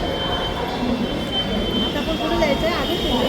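A train pulls into a railway station with a steady rumble of wheels on rails and faint metallic squeals, while people talk nearby over the noise.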